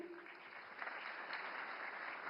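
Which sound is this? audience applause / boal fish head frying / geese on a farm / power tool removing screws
audience applause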